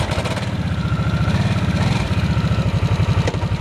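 A Harley-Davidson Nightster motorcycle with a 975 cc engine idles nearby, a loud, low, lumpy throb with a steady uneven pulse, running alone without speech.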